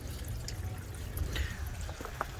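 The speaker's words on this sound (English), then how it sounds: "I can hear the water going down." Water from a hose trickles and drips steadily down a shed roof, with scattered splashes and low rumbling in the background.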